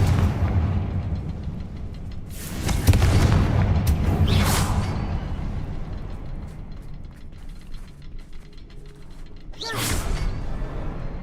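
A Confringo fire spell blasts in the Hogwarts Legacy video game, two heavy whooshing booms a couple of seconds apart followed by a third later, with quieter mechanical rumble between them.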